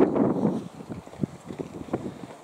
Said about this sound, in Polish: Wiatr raczej wieje cały czas.